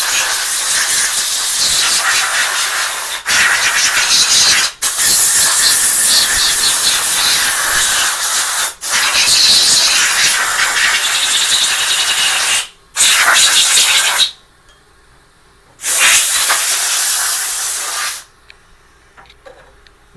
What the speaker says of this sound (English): I go through with the air gun and try to get all the coolant out of my screw holes.